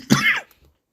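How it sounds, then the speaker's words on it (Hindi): A man gives one short, sharp cough close to the microphone, and a brief quiet throat sound follows before silence. "थोड़ा खांसी हो गया"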